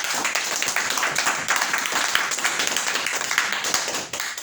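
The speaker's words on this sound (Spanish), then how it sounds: "Palmas para el Señor." A church congregation clapping their hands for the Lord, a dense, continuous wash of many hands applauding together at close range, with faint voices mixed in.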